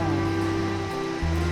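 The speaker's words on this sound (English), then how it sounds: "This is a beautiful place with the stream flowing as a waterfall just below the bridge." A stream pouring as a small waterfall just below a living root bridge in Meghalaya, with a constant broad rush of water that stays loud and steady, and a low steady hum running beneath it.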